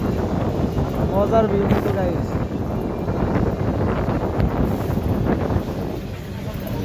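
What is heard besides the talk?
cold wind blowing at a moving bus on a mountain road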